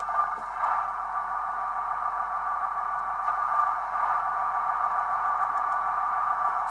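Bachmann Class 158 model train sound unit in Transport for Wales livery, giving a steady, unbroken electronic hum with a constant engine-like drone held at even loudness throughout, no voices over it.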